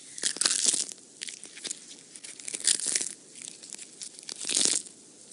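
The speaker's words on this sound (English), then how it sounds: "the leaves, shaped like this, give the most pleasant crunchy noise" Dry apple tree leaves crunched and crumpled right against a microphone outdoors in the bush, giving loud, crisp crackling bursts in three or four clusters with short pauses between.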